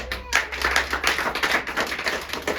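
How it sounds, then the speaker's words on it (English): A burst of hand clapping from a group, dense and steady for a few seconds with no talking over it. "Clap hands for yourself"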